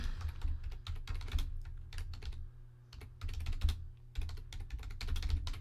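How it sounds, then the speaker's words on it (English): Typing on a computer keyboard clatters in quick, dense bursts of close, distinct key clicks, pausing briefly twice before resuming, with no talking. "I'm going to finish typing the question"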